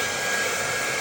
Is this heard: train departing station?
no